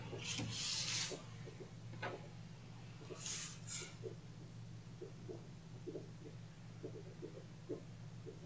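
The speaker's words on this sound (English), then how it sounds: "And I am just going to cut out this little flag here that says autumn." Scissors cutting a small paper flag freehand from a file folder for a notecard, quiet close snips and rustling paper in short irregular bursts over a faint steady hum.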